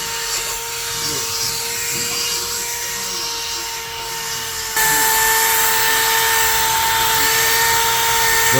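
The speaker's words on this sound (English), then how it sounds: "now we're sanding it down with synthetic sanding brushes on drills" Power drills spinning synthetic sanding brushes over primed metal on a motorcycle transporter, a steady whining drone with a sharp jump in loudness midway, continuous and fairly close.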